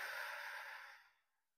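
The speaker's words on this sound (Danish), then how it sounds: "Og ånder ud gennem munden." A single long exhale out through the mouth during a calming breathing exercise, a soft airy breathy rush lasting about a second that fades away into silence.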